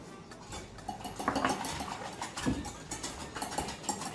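Egg custard mixture with salt and pepper being whisked in a bowl, giving a quiet, steady clinking and scraping of the whisk against the bowl's sides.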